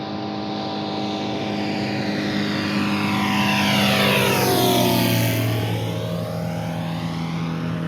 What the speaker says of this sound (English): Never seen an airplane down that low in the canyon like that.